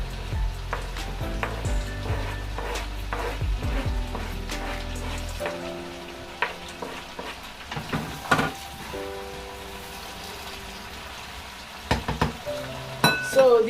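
Onions fry in a pan with a steady sizzle. Clattering clicks and stirring scrapes come through at close range, and the sizzle settles quieter partway through.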